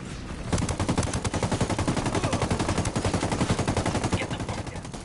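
Continuous automatic gunfire in the Ghost Recon video game during a fight with El Sueno, a loud, close, rhythmic stream of rapid shots that keeps pounding for several seconds without a break.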